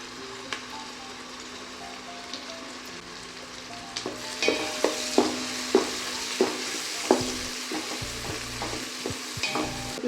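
Spice powder being stirred into hot oil in a pan for mutton nonbu kanji, a steady frying sizzle with a spoon scraping in irregular strokes that grow louder and more frequent in the second half.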